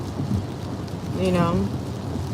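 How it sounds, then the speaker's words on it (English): Steady rain and a low rumble of thunder fill a stormy night, with a brief voice rising over the downpour midway. "you see that thunder? Ooh, you see that lightning? You might hear a little bang."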